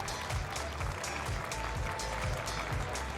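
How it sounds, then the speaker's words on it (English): Audience at the TFT Paris Open esports showmatch applauding Disguised Toast's team, a fairly faint, steady crowd clapping over a rhythmic low thumping backdrop. "Applaudissements pour eux, s'il vous plaît."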